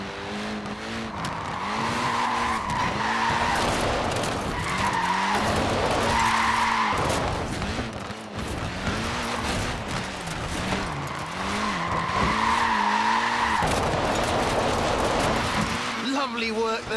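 A Mini with a short wheelbase and front-wheel drive skids in Forza Horizon 4, tyres squealing in repeated wavering howls over a steady engine drone, with someone talking throughout.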